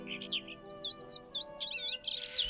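Cartoon birds chirp and tweet in quick bursts of bright calls, fairly close, over a soft sustained musical background in an animated story about a farmer sowing seeds on a path.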